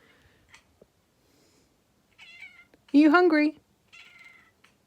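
A house cat meows several times, one loud, close, drawn-out meow standing out among shorter softer calls, while someone talks to it briefly in a quiet kitchen.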